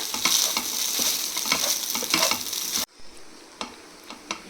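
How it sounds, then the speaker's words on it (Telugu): Spiced cauliflower fried rice, seasoned with chilli powder, salt and pepper, is tossed and stirred in a sizzling pan. Loud frying hiss comes with repeated scraping strokes, then drops suddenly to quieter occasional clinks and stirs. "కారం ఉప్పు మిరియాల పొడి ఇవి కూడా వేసుకొని మంచిగా టాస్ చేయాలి అంటే కలుపుకోవాలి మంచిగా"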